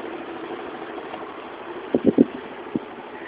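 Steady low engine idle of a scooter with a rider's hand on the throttle, crossing a stream in view of Mayon Volcano, with a few brief thumps and splashy knocks near the end over the continuous drone.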